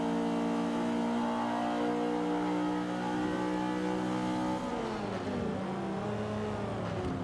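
Race car in Forza Motorsport 5 accelerating hard, its engine note climbing in steady harmonic bands, then dropping and sweeping back up through a gear change; loud and continuous with no talking.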